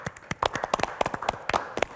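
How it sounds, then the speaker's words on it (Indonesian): Studio audience clapping at an Indonesian health talk show, a scattered run of sharp, uneven claps close by, no voices over them. "Boleh tepuk tangan sekali lagi."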